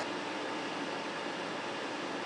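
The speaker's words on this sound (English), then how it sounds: "These fans are kind of noisy." Cooling fans of a RUNHOOD Rallye 1200W solar generator under a 1200-watt load give off a steady, even whoosh of airflow that stays constant throughout, with no talk over it.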